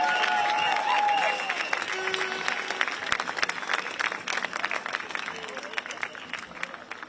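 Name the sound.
crowd applause at a street protest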